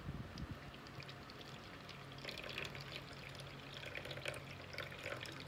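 Water is poured into a container for measuring while making a homemade whitening body lotion, giving a close, steady trickling and splashing stream that keeps going throughout.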